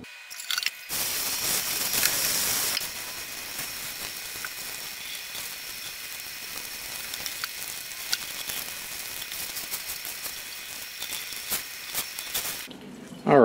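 Tie-dyed fabric from a reverse spiral scrunch ice dye is rinsed under steady running water, a continuous hissing splash that holds from start to finish with no talking.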